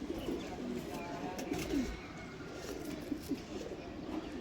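Soft, low pigeon coos repeat through a steady murmur of background noise, several birds cooing close by.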